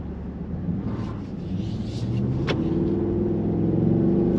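Pickup truck with a 7.3 V8 engine driving, a steady low rumble and road noise that swells as it picks up speed, close and continuous with no talk.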